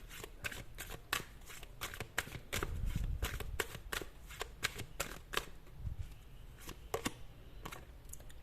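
Tarot cards drawn and handled one after another in a quiet room, giving a steady run of crisp, close snapping and flicking sounds with brief soft rustles of shuffling between them.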